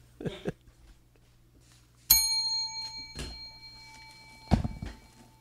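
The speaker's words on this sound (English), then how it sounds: "I forgot my bell. Because that would have been a ding." A bell rung during a podcast-style recap of Vegas finals, struck at about two seconds and left to ring out with a long, clear decaying tone, followed by a couple of duller knocks.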